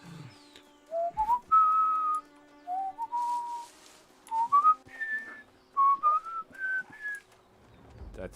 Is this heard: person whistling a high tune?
yes